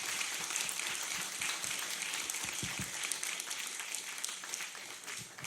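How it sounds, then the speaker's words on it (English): Sustained, even audience applause rings out for Lord Neuberger at an evening talk event, a dense wash of many hands clapping that fades slightly toward the end. "round of applause for Lord Neuberger"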